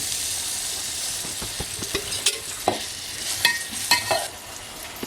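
Onion frying in oil in a pan on a home stove, a steady sizzle broken by scraping stirs and clatters that come in uneven bursts, close and fairly loud, with no voices.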